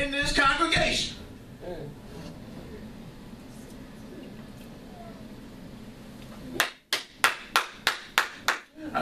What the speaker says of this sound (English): I know how I clap for myself.